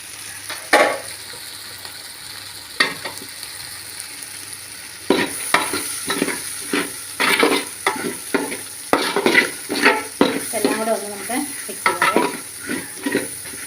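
Carrots and beans stir-fried in a hot pan for homely chicken fried rice, with loud repeated scraping strokes of a spatula over steady sizzling, irregular and close, growing busier midway.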